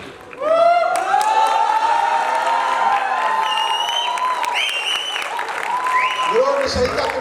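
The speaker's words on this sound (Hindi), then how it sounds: "इनको अजीम राहत के लिए भरपूर तालियां होनी चाहिए" Audience at an Urdu stage play at an arts council theatre bursts into loud applause that swells suddenly, with whoops, cheers and raised voices riding over the clapping.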